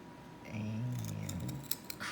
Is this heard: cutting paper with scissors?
yes